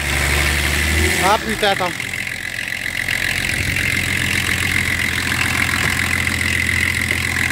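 A car engine idles steadily and then revs up, with a brief burst of rising revs near the start and a constant mechanical drone after it. Someone talks briefly over the engine noise.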